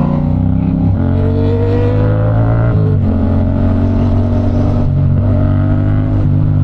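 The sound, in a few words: motorcycle engine revving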